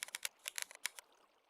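Rapid clicky keystrokes on a mechanical keyboard, about a dozen sharp taps in an uneven burst that stops after a second, close and fairly quiet with no voices.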